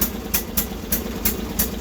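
A Sears Suburban loader engine runs with its choke stuck on, chugging in a lumpy, uneven rhythm with sharp periodic bursts about every third of a second, close and fairly loud.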